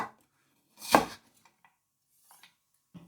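A knife cuts fresh ginger into thin strips on a board: one firm close chop followed by a few faint ticks and a soft tap at the end, with quiet gaps between.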